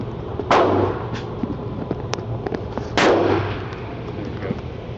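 Two loud, close pistol shots from a Smith and Wesson SD9 VE at a shooting range, spaced about two and a half seconds apart, with softer distant pops and background noise between them.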